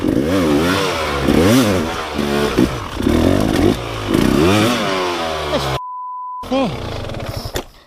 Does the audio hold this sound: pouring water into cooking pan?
no